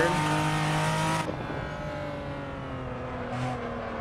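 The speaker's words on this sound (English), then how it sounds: "Downshift a little too soon there, just crackling that exhaust though." Racing car in Assetto Corsa downshifting at speed: a steady, loud engine drone drops in pitch as the revs fall, with a brief crackle from the exhaust near the end, and no talk.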